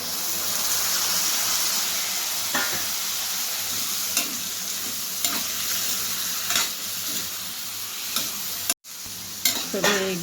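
Cowpea pods hit a hot pan with cumin and paste, giving a loud continuous sizzle with repeated stirring scrapes and spoon taps, a brief cut near the end, no talking.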